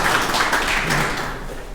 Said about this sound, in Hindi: हाँ तालियों से एक बार स्वागत करें।